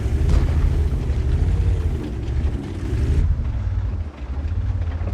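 A tank's ammo rack detonates in a video game as a loud, low, rumbling explosion that rolls on for several seconds and then fades, with no talk.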